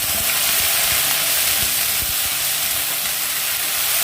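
Onion paste fries in hot oil in a pan for Bengali rui fish kalia curry, making a steady, loud, close hissing sizzle with faint scraping stirs underneath.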